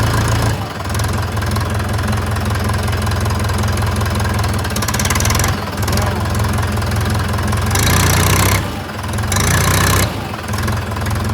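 A tractor engine runs steadily and loudly throughout while the tractor sits stuck in a farm field, with a rough knocking idle and slight surges in intensity.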